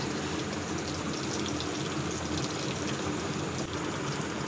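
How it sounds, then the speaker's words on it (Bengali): Salted mustard-paste water poured into a hot pan of mustard oil tempered with nigella seeds while cooking shorshe ilish, heard as a steady, close rushing pour with liquid splashing continuously throughout. "সর্ষে গলা জলের মধ্যে লবণ মেশানো আছে ওই সমেত জলটা দিয়ে দিলাম"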